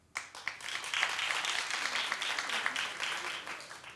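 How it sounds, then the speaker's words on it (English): A television talk-show studio audience breaks into applause, a dense burst of clapping that starts abruptly and holds steady until the end. "Clap if you do."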